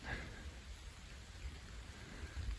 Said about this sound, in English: Just listening to the sound of the rain